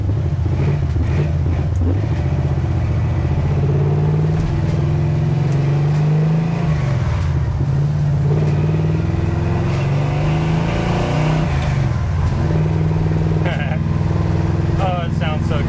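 A 1972 Chevy Nova Yenko clone with a big-block engine and four-speed manual, driven on the road with a loud, close, continuous rumble that rises and falls with shifts, and someone talking over it.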